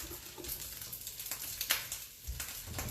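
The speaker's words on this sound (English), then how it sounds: "And my bacon's frying up really good" Bacon frying in a pan gives a steady, quiet crackling sizzle with scattered pops and spits, continuous and close throughout.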